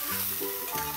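Food fries under a lid in a covered frying pan, a steady dense sizzle with faint stirring shifts, close and continuous throughout.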